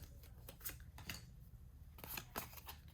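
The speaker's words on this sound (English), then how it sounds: "we're going to go ahead and cut that open with some scissors" Scissors snip open a Pokémon trading card pack in a series of sharp, close cuts with short pauses between them; quiet room, no talking.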